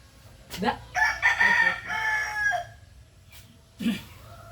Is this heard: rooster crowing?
yes